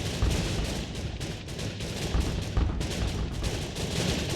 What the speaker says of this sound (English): Little missiles popping out there.